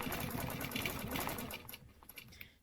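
Sewing machine stitching small quilt squares, a steady rapid mechanical whir with dense repeating needle clicks, fairly close, running continuously then slowing and fading to near stop at the end.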